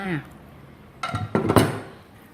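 A couple of scraping, clattering strokes of a utensil against a pan, moving cooked sweet potato dessert onto a tray, close and fairly loud, following a brief bit of voice.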